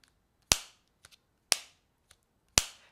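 OPPO Enco X earbuds charging case lid snapping shut magnetically, three sharp, crisp clicks about a second apart, each with a short bright tail, close and alone with tiny faint ticks between.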